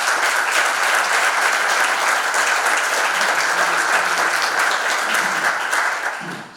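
A hall audience at an award ceremony claps for the honoree in dense, sustained applause, loud and even throughout before it starts to thin at the very end.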